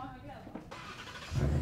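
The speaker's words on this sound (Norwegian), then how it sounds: "Starta bilen med nøkken!" A car engine started with the key, a brief cranking that catches into a low idling rumble near the end, heard under excited conversation inside the vehicle.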